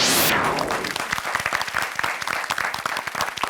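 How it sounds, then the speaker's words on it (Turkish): Game show contestants clap energetically on a studio set, a burst of applause that opens with a swoosh and continues as quick, distinct close claps. "ilk defa bu kadar motive alkışladın şu an"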